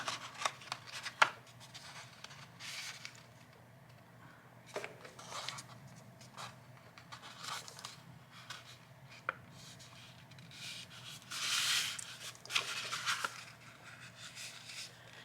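Paper is folded corner to corner for a journal, heard as soft, close rustling and creasing with scattered crisp swipes and a longer brushing rub near the end.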